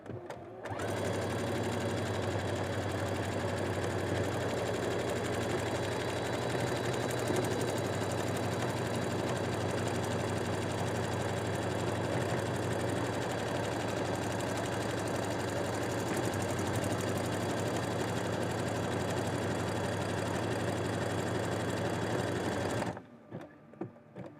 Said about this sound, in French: j'ai plus qu'à appuyer ou lancer en manuel suivant les machines à coudre. Et ma boutonnière va se faire toute seule.